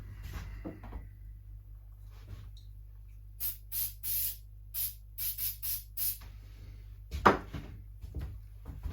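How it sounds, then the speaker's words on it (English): Goo sprayed from an aerosol can in about eight short hissing bursts in an uneven rhythm, close and clear over a quiet low hum, with a clunk just after the sprays. "I'm going to spray a bit more of this goo at it wherever it's gone."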